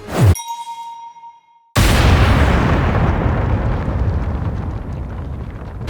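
A giant flagship blows apart in a video game: a sharp blast, then a ringing metallic tone, silence, and a huge sudden explosion that rolls on as a long, dense, crackling rumble of chain-reaction detonations.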